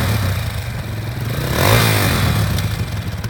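A used 2017 Honda CRF230F youth dirt bike engine runs steadily, a close, buzzy single-cylinder drone with a slight rev rise midway.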